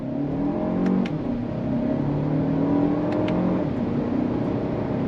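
A 2024 Lexus TX 500h F Sport hybrid SUV accelerates hard in first gear, its engine droning and rising steadily in pitch as it gains speed, heard from inside the cabin.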